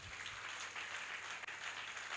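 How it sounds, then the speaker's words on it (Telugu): A church congregation claps during a Sunday worship service in Ramagundam, a dense patter of many hands that continues evenly, heard at a distance and fairly soft, with no speech. "చప్పట్లు కొట్టు గట్టిగా."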